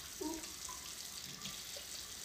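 Tap water runs steadily from a faucet into a sink, a continuous close hiss with a few small splashes and gurgles, no talking over it.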